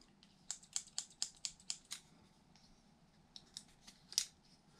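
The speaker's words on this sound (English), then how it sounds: "Let's see if I can get the scissors out." A quick series of sharp metallic clicks and snaps as a multi-tool's folding scissor blade is worked open, followed by a few softer clicks, close by.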